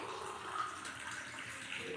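Water pours steadily into a pan of sugar to make syrup for a Gangaur sweet, a continuous soft splashing and trickling close by with no talk.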